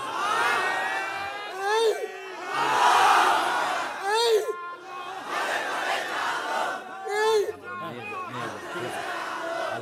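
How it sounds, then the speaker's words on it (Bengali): A crowd at a religious gathering in a mosque setting shouts takbir for a boy, with loud, ragged bursts of massed voices rising and falling over about ten seconds, some of them overlapping. "একটু তাকবীর দেন না ওর জন্য"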